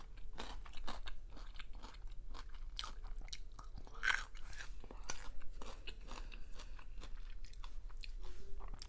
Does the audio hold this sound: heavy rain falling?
no